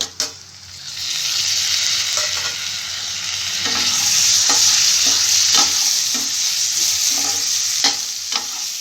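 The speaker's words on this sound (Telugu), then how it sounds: "ఎర్రగడ్డలు బాగా గోల్డెన్ కలర్ వచ్చేంత వేగాలండి బాగా నూనెలో వేగాలి" Onions frying in oil being stirred in a pan, a loud, dense, steady sizzle with periodic scraping strokes of a spoon, close up and continuous, with no speech.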